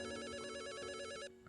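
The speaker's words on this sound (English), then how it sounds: "A phone call at this time?" A phone in the video game Return to Shironagasu Island rings with a loud, rapid electronic trill that repeats steadily for over a second before cutting off abruptly.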